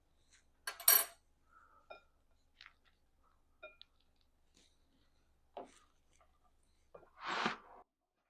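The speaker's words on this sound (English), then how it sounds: "I'm going to give these another quick stir" Spoon scrapes and knocks against a bowl of microwaved potatoes, a few scattered clinks and scrapes with pauses between them, close and fairly quiet.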